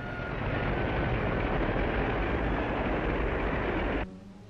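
A train rolls past in the Italian countryside near farm folk, a loud, steady broadband rumble that holds for about four seconds and then cuts off abruptly to a quieter hum.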